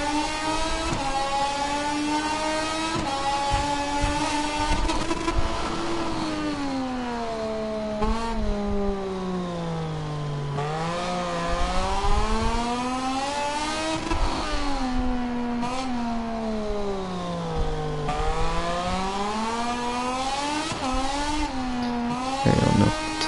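A race car lapping the Jerez circuit, its engine droning loud and steady from close by, pitch sweeping up through the gears and dipping into corners in repeated rises and falls, without talk.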